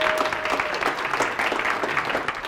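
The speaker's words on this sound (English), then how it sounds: "Give yourself a round of applause for being here." A hypnosis conference audience applauds during a keynote, a dense, continuous wash of clapping from a large crowd, even and sustained throughout.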